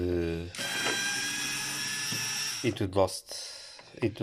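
A Bosch PSR 2.4V cordless screwdriver with a replaced battery whirs steadily at close range for about two seconds, then stops as a person speaks.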